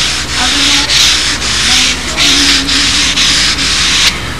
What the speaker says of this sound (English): And I'll do all the final sanding with this big long block.